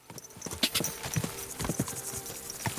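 A horse in Kingdom Come: Deliverance II clip-clops along, an irregular run of sharp close hoof strikes over a few seconds, moderately loud with no talking.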